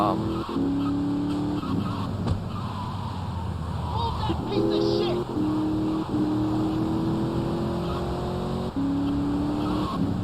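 A car drives in GTA Vice City, its engine revving up and down through gear shifts with rising whines and brief drops, close and steady, under occasional talk.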